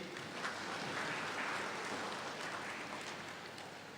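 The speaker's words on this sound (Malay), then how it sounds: "Tepuk tangan kat TMB sikit." An audience applauds at a land grant ceremony in Padang Terap, Kedah, a steady faint patter of many hands clapping that stays even throughout, heard from a distance with no talking.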